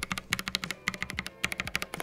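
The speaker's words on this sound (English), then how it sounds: "how to tape mod your keyboard and get it from sounding something like this" Fast, steady typing on a mechanical keyboard before any tape mod, with crisp clacky keystrokes in quick bursts and a brief pause between runs, heard close up and alone.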